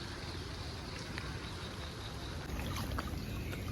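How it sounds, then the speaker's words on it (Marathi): A small thermocol boat moves through floodwater in a village lane, giving a faint, steady wash of water noise that grows slightly louder partway through. "मी या लहानशा होडी थर्माकोलच्या होडीमध्ये तुम्हाला व्हिडिओ दाखवत आहोत"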